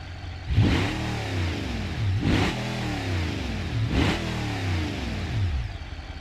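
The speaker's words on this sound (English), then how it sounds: "Supercharged big block V8." In BeamNG.drive, a truck with a supercharged big block V8 revs three times in evenly spaced surges that rise and fall back to a rumbling idle, heard close with no talking.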